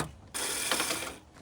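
A ratchet wrench turns out the bolts holding a door latch mechanism inside a Hyundai or Kia door, a quick run of fine clicking that starts abruptly, holds for about a second, then fades.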